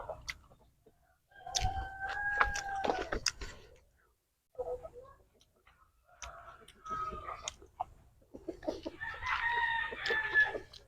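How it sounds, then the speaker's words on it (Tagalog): Chickens cluck and a rooster crows in bursts nearby in a rural provincial yard, with quiet gaps between the calls. "Manok."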